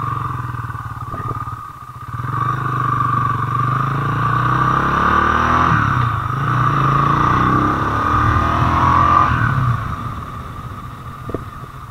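A 2022 Motorstar Cafe 400 motorcycle brakes with front and rear brakes together: a steady engine rumble and rolling drone that rises, holds, then eases off as the bike slows, with no voices.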